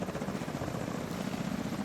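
Steady helicopter rotor thrum in a video game, a continuous close, loud drone with no break across the short span.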